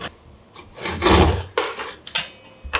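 A hand saw finishes a cut through wood left behind by a circular saw in a DIY build, several short rasping strokes in an uneven rhythm, close and fairly loud, with no talk.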